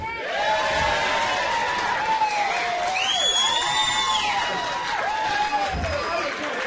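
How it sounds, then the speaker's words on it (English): A lively crowd cheering at the St George Sailing Club's 120th presentation night, a sustained roar full of whoops and high shouts that carries on throughout, loud and close. "Would have to be the liveliest, most enthusiastic crowd that I've seen at a presentation night this year."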